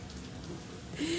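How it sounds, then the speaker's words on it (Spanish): Steady rain on a cool night, a soft continuous patter of drops on surfaces that stays faint throughout and swells slightly at the end, with no voices. "en esta noche de lluvia. Una noche fresca, maravillosa"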